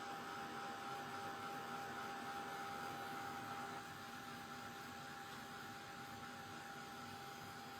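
A dryer blows a steady, loud broadband whoosh over a freshly applied glitter pen. The airflow drops a little in level about halfway through and then holds constant, with no voices.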